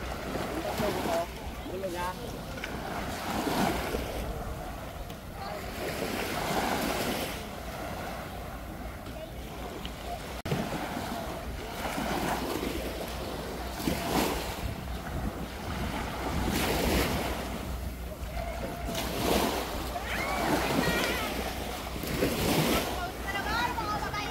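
Surf and gusting wind at Bolabog Beach in Boracay during a morning high tide, waves washing in repeated surges with heavy wind buffeting the microphone, and people talking faintly in the background.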